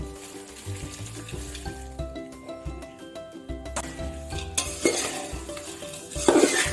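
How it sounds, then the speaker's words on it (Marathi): Hot tempering is poured into a pot of thin poha chivda and stirred, giving sizzling and a scraping spoon over a steady musical background, loudest at the end. "आता ही फोडणी आपण टोपात घालून घेऊया"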